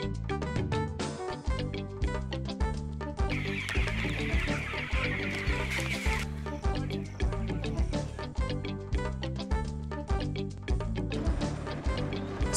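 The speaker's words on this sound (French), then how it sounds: "les poulets africains" African chickens clucking steadily among farm birds, heard under a loud, continuous rhythmic music bed that runs throughout.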